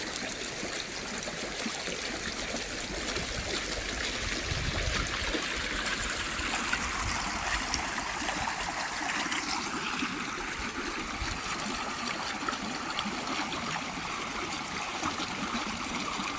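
A river flows steadily at a bathing spot during the Karthika month, with a constant, close rushing and trickling wash of water and no voices.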